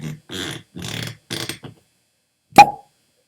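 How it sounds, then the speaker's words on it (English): A composite cork of sawdust and glue pulls from a limited-edition, single-cask bottle of Macaloney's The Peat Project Canadian Island Single Malt Whisky. It gives one sharp, close pop after a few seconds of voices. "Composite cork."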